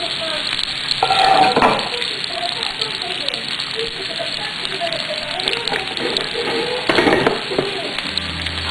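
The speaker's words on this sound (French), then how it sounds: "je vais m'occuper de faire sauter mes légumes" Vegetables with fresh ginger sautéing in hot oil in a wok for stir-fried noodles, giving a loud continuous sizzle with occasional bursts and utensil clatter, while a voice talks over it.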